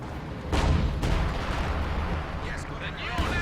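A 152mm artillery shell strikes in Company of Heroes 2, a heavy boom around half a second in that rolls into a rumbling blast, followed by a second impact, all under a commentator's voice.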